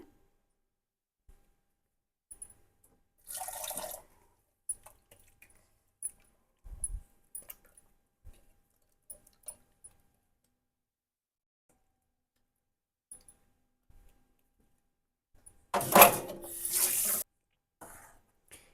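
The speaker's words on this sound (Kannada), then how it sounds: "ಈ ಮಿಕ್ಸಿ ಜಾರ್ನ ತೊಳೆದ್ಬಿಟ್ಟು ಇದರಲ್ಲಿ ಒಂಚೂರು ನೀರು ಹಾಕ್ಬಿಟ್ಟು ತೊಳೆದ್ಬಿಟ್ಟು ಅದನ್ನು ಸೇರಿಸ್ಕೊಳ್ತೀನಿ" Water splashes and sloshes in short bursts as a mixer jar is rinsed while making jackfruit payasa, with scattered small clinks and drips between quiet gaps and no talking.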